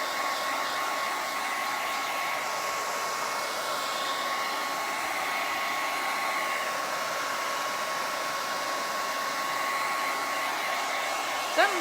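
A hair dryer blows hair dry indoors, a loud, steady whirring roar with a constant high whine that runs unbroken throughout, with no talking.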